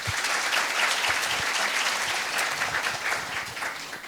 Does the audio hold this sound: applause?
yes